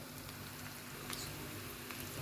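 Rice being added to fried onions in a pan gives off a faint, steady sizzle with soft crackles and light patter throughout.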